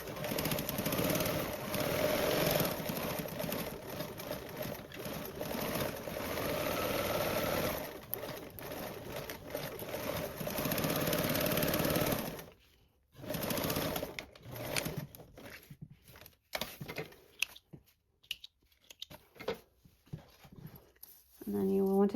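A sewing machine basting around a pocket with an eighth-inch seam allowance, running in steady bursts that stop and start, with a voice speaking between runs.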